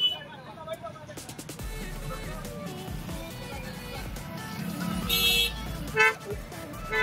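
Busy road traffic with motorbikes and cars crawling along, several short horn toots sounding near and farther off over engine rumble and street babble, with people talking nearby.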